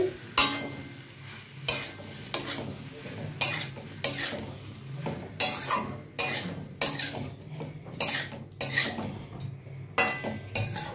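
Gondhoraj chilli chicken, Bengali style, is stirred into sauce in a pan, with repeated scraping and clinking strokes of a utensil against the metal at a steady rhythm, close and fairly loud over a faint sizzle.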